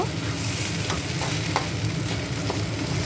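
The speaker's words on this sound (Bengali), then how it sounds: "মশলার সঙ্গে মিশিয়ে একটু ভেজে নেব" Spice mix frying in a pan, a steady close sizzle with soft stirring scrapes running throughout, no voices.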